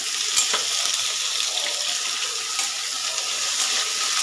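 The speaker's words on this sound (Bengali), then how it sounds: "বেগুনগুলো নাড়াচাড়া করে নেব একসঙ্গে করে" Eggplant pieces frying in a pan give off a steady, close, hissing sizzle, with a couple of soft stirring scrapes mixed in. No voices.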